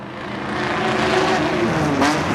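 A BMW race car with a straight-six engine roars steadily at close range, holding a loud sustained drone with a slight pitch rise near the end, no talking.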